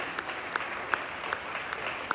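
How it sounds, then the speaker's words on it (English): An audience at an outdoor Democratic block party applauds steadily, many hands clapping together in a continuous patter with a few sharper claps standing out. "we should all give ourselves a round of applause for being here today"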